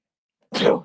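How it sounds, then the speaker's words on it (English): A single sudden human sneeze bursts out after near silence, loud and close, lasting well under a second. "I didn't think I was going to sneeze."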